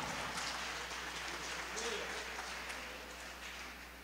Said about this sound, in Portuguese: Batam palmas ao Senhor